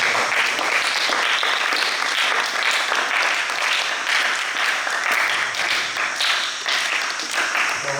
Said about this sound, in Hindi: एक बार दोबारा सभी पूरे आयोजकों को सभी ताली बजाएं।